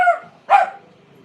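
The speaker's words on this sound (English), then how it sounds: "Dog's getting upset." A dog gives two sharp barks, close and fairly loud, separated by a brief pause, while a live UFC fight is on in the background.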